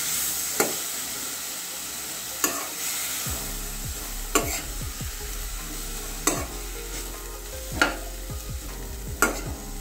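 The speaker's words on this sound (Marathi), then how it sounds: "आणि हे चांगलं असं हलवून घेऊया आता" Capsicum bhaji frying in a pan is stirred with a steady sizzle underneath, and sharp spoon scrapes and knocks land every couple of seconds. Low clattering thuds join in the second half.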